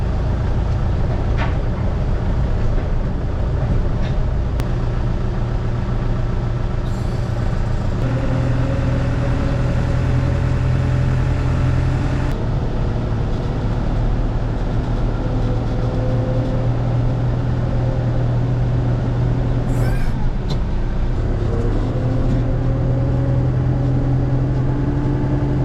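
A tractor engine that was plugged in overnight idles and runs on a winter day, a loud steady diesel drone with slight shifts in pitch for the whole stretch, no talking.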